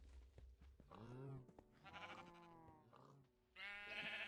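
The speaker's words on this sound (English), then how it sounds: "Sheep, what are you doing down here?" Sheep in the Minecraft modpack Agrarian Skies bleat several times in close succession, wavering baa calls with short pauses between them, clear and near.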